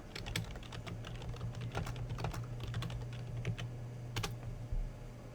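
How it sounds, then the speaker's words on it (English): A search term is typed on a computer keyboard: quiet, quick key clicks in an irregular rhythm, nearby and alone over a faint low hum. "I'll type in my search term"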